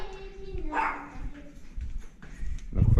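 A dog out on a walk gives a couple of short, close barks, one early and another at the end, over outdoor background noise.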